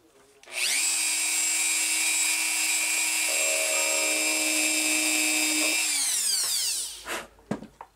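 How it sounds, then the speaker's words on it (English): A power drill bores a tiny air-relief hole in a dummy build, one continuous whine of about five seconds that rises in pitch partway through, then spins down and stops, followed by a couple of faint clicks. "I had to drill a little tiny hole, just enough to let the air escape"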